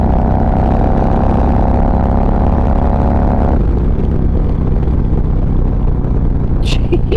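A Harley-Davidson motorcycle fitted with a TAB Performance Redline exhaust rumbles loudly and continuously while riding on an open road, its low drone steady under wind noise, with the note dropping slightly about halfway through.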